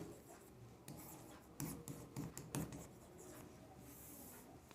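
Pen or marker scratching across paper or a board in short bursts of strokes, close and fairly quiet against a steady room hiss, with no voices over it.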